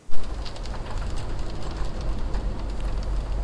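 Steady rain patters densely on a surface in Naran Valley by the Kunhar River, a constant hiss with a low rumble underneath, close and moderately loud.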